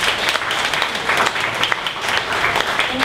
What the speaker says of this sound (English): One more round of applause for Coco Jack.